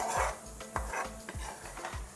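Tomato pickle gravy (thakkali urugai) being stirred in a pan with steady, evenly spaced strokes about every half second, close and clear with a soft sizzle underneath.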